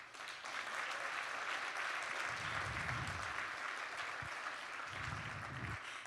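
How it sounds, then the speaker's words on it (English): An audience applauds coaches at a nonprofit mission network session, a steady wash of clapping that carries on for several seconds at moderate distance with no talk over it. "so please give them a round of applause."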